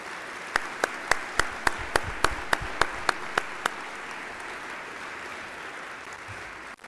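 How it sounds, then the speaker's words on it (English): An audience at a school Veterans' Day ceremony at St. Thomas Academy applauds faculty, staff and coaches; a sustained crowd clapping wash runs throughout, with a series of sharp, evenly spaced clicks over the first half. "please join me in a round of applause for our St. Thomas Academy faculty, staff,"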